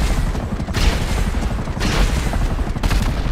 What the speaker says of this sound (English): then you'll get manual aimed homing missiles